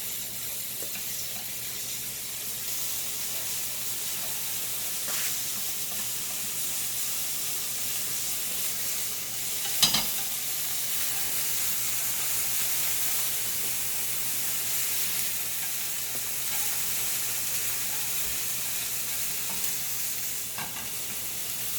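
Beef frying in a thin layer of oil in a pan for japchae-style tangpyeongchae, a continuous close hiss of sizzling with one sharp clatter partway through and a few faint knocks.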